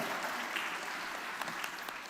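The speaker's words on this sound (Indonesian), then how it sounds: "Tepuk tangan aja. Tepuk tangan." Brief burst of audience applause at a university personal-branding talk, a dense wash of clapping from a seated crowd, steady and moderately loud.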